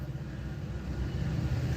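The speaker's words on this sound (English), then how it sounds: "Hey, there's the train." A Metrolink commuter train passes nearby with a steady low rumble of engine and wheels, fairly loud and continuous, with no talking.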